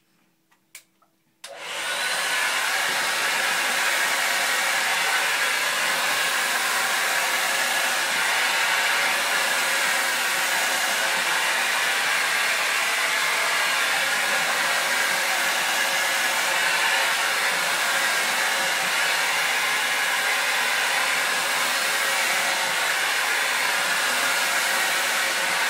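A hair dryer blows hair straight down while styling for natural volume at the crown. After a few faint handling sounds it switches on and runs as a loud, steady, broadband whoosh that holds unbroken to the end, with no talk.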